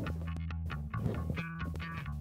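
A bass line pitched up an octave plays in short high notes with small clicking artifacts between them, sounding thin and slightly distorted.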